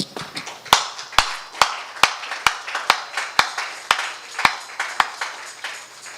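A church congregation claps in a steady, even rhythm during worship, with about a dozen sharp, loud claps spaced roughly half a second apart and no talking.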